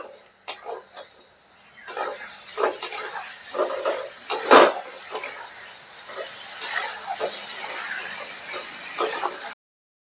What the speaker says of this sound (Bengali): এবার আমি পটলগুলো দিয়ে দিচ্ছি। একটু মিশিয়ে নিতে হবে।